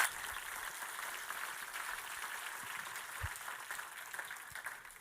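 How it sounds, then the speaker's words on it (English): An audience at an evening award ceremony applauds a qualifying finalist, a soft, steady wash of clapping heard from a distance, fairly quiet throughout. "On peut l'applaudir, s'il vous plaît."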